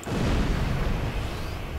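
A starship fires a torpedo during combat with a Jem'Hadar ship in Star Trek Online, a loud sustained booming blast that rumbles steadily through the whole moment with no talk over it.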